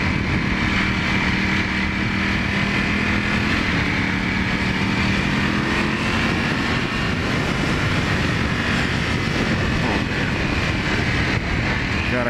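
A Ducati Panigale V4 motorcycle with its stock exhaust runs steadily on a ride, a loud, continuous engine drone with a rough low rumble that holds without break for over twelve seconds.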